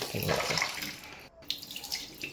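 Tap water running while mutton liver is washed in a home kitchen, a steady splashing flow that briefly cuts out midway before resuming close by.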